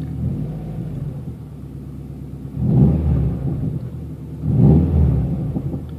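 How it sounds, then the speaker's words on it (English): A 2007 Subaru STI engine is revved twice while parked, each throttle blip swelling into a deep, loud rumble over a steady idle. "I'm gonna let go of the brake because I'm going to hit the gas. I want to just kind of get it warmed up a little bit."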